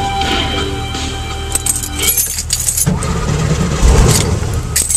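A 1971 VW Bus after brake booster repair, with keys jangling before the engine cranks and catches, then runs close by with a smooth idle and slight rev.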